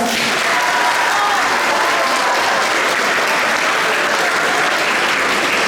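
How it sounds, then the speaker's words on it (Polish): School pupils applauding in a primary school hall, a loud, dense burst of clapping from a whole crowd of children that fills the space evenly for several seconds. "Dajcie brawa dla Igora."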